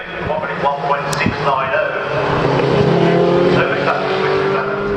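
A historic Formula Ford 2000 race car spinning at Silverstone, a loud, continuous engine roar with tire scrub and squeal mixed with passing cars, while a commentator talks over it.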